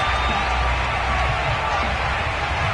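A football stadium crowd in Buffalo before the Minnesota Vikings face the Buffalo Bills, a broad, steady roar of many voices with scattered cheers and whoops, heard from within the stands.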